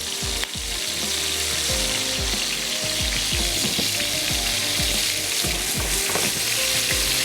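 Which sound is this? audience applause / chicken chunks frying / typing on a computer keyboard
chicken chunks frying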